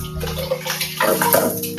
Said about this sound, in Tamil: ஒரு டம்ளருக்கு மூணு டம்ளர் தண்ணி வைக்கணும்